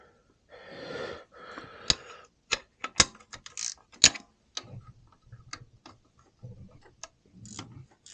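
A ratchet wrench tightens bracket bolts on a 1999 VW Golf with the ABA engine, giving bursts of quick close clicks and sharp metallic ticks, then slower single clicks spaced out by pauses.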